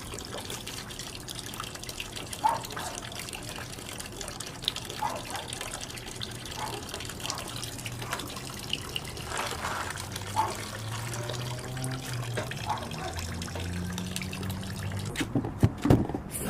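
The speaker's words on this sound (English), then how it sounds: "I'm going to fill it back up with distilled water" Distilled water trickling and gurgling into the coolant system of a 2008 Ducati 1098 during a coolant flush, a steady close-up pouring sound with faint handling noises near the end.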